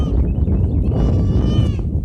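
Baby goats bleat near at hand in a couple of quavering, high cries over a low rustling background.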